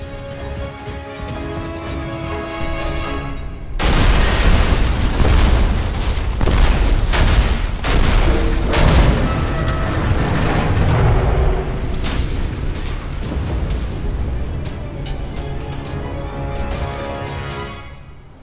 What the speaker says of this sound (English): Iris, I see the pumping station. Stand by for some fireworks